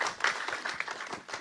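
An audience at a Telugu film event applauds the film's designer, a short, moderately quiet spell of scattered, overlapping claps with no voices.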